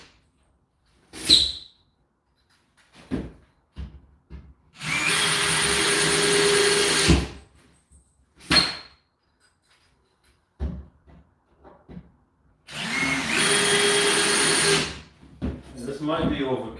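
A power drill drives screws during a DIY home renovation, two long loud whirring bursts of several seconds each separated by clunks, knocks and short handling noises, with no talk.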